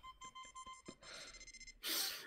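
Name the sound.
electronic beeps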